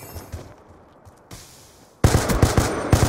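Rapid video game gunfire from a first-person shooter, with faint shots early and then a loud burst of quick repeated cracks in the second half.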